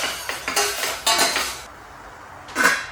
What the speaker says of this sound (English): I add in 1 large tomato.